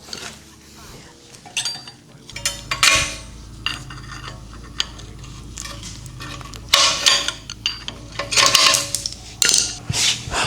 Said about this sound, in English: You want to take a screwdriver, stick it in and turn it, and it should pop out.